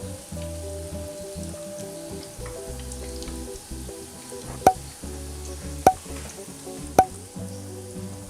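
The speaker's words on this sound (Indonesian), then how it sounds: "goreng tahu dengan tetap menggunakan api sedang agak besar sambil sesekali diaduk agar tidak gosong" Stuffed tofu fries in oil over medium-high heat, a steady close sizzle and crackle with stirring scrapes, broken by three sharp loud clanks of the utensil against the pan.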